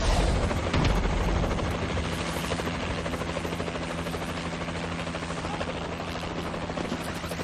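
Warbird aircraft in Call of Duty: Advanced Warfare multiplayer, a steady, loud rotor-like engine drone flying overhead that holds throughout, with faint game sounds under it.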